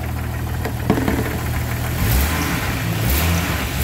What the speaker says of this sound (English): any engine life you can get out of an old wore out engine like this, it's a good deal